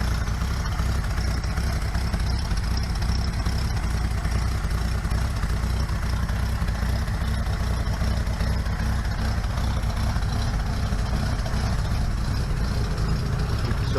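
Freshly restored car engine idling just after its first start, a steady low rumble holding an even tone throughout with no revving and no talk.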